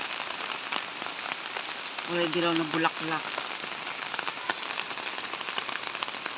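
Steady rain pours down as a typhoon approaches, a dense, even hiss over a surface, with a brief stretch of a person speaking over it.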